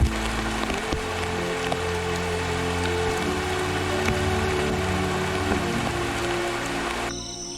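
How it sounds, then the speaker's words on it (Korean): Heavy rain pours onto the Congo rainforest canopy in a steady, loud, dense patter with woody knocks, then cuts off abruptly near the end. "거센 비가 잦아들었습니다."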